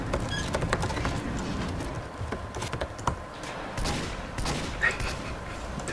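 Rapid rattling gunfire from a Team Fortress 2 match, dense bursts of shots running steadily throughout with a faint voice underneath.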